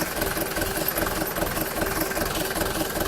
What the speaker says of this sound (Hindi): मैं गाड़ी ट्रैक्टर चला रही हो